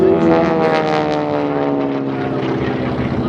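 Propeller aerobatic airplane flying a half Cuban 8 at the 2024 First State Airshow, a loud, steady engine drone with a shifting buzzing pitch as it rolls out of the manoeuvre.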